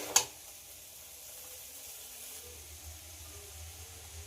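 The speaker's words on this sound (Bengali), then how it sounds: "চাউমিনটা দিয়ে সবজির সঙ্গে খুব ভালো করে মিশিয়ে নিতে হবে।" Boiled, drained chow mein noodles being stir-fried and mixed with vegetables in a pan, opening with one sharp clack, then a faint, steady sizzle with light stirring underneath.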